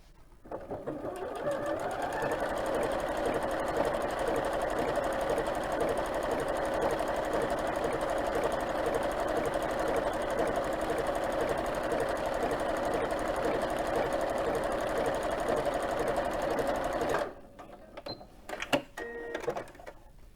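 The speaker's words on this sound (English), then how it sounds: "set the machine to do a blind hem stitch" A sewing machine stitches a blind hem in one long continuous run, a fast buzzing whir with a steady mechanical rhythm, heard up close. It stops abruptly near the end, followed by a few quiet clicks and handling sounds.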